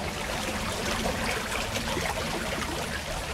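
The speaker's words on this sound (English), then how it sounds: "A hidden brook, I'm finding them all today." A small hidden brook trickles outdoors as a steady, soft wash of running water, continuous and fairly close with no voices over it.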